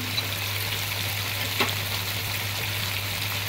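Onion hitting a hot pan for chicken chowmein, a steady close sizzle and frying hiss that runs throughout, with a brief scrape of stirring near the middle.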